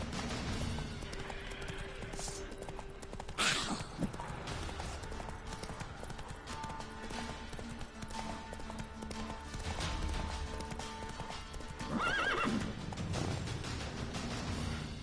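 Roach the horse gallops in The Witcher 3, with rapid rhythmic hoof clip-clops throughout and a couple of sharp whinnies rising over them.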